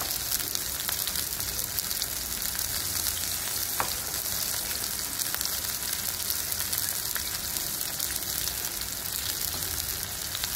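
Dried fish frying in a pan with salt, turmeric and chili powder, a steady dense crackling sizzle holding evenly throughout, close and moderately loud, with no talking.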